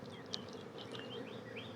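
Honey bees in a spring bee yard beside a colony sitting on the ground, a faint, steady buzz with individual bees droning past at varying pitch, no talking.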